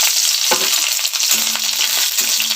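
Garlic cloves hit hot oil in a kadai already holding nigella seeds and dried red chilli for a pumpkin-leaf paste, giving a loud, continuous sizzle and crackle close up.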